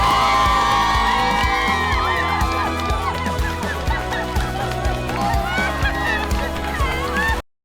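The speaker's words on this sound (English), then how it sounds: "people are celebrating winning an award, but their cheering is mixed in with music" A crowd celebrating an award win, cheering, whooping and clapping loudly over rhythmic music with a steady beat, voices shouting throughout.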